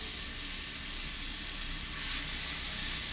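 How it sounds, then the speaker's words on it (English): Beef sears and sizzles in a hot pan for a rice bowl, a steady close crackling hiss that swells briefly partway through, with no talking. "my pan's already hot, so it's already like searing, but I'm just gonna get the beef broken down a bit."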